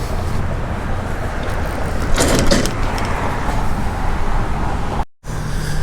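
The powered rear ramp door of a 2022 Fuzion 430 toy hauler trailer lowers with a steady motorized hum and faint creaks, ending in a brief clunk and a moment of silence before the hum resumes.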